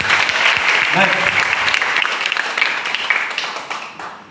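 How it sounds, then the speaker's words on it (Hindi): Audience applause at a motivational meeting in Jahanabad, loud and dense from the start, then slowly thinning and fading toward the end, with a brief voice rising through the crowd noise early on. "तो जबरदस्त ताली के साथ शुरुआत करें"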